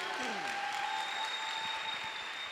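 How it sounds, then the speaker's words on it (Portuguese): Applause from a church congregation during a special worship service, a steady wash of clapping throughout with a faint sustained tone and some voices mixed in. "Dá uma salva de palmas"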